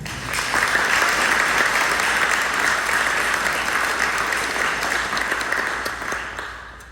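An audience at a regional board of education meeting breaks into sustained applause, a thick wash of many hands clapping that holds steady for several seconds before tapering off toward the end.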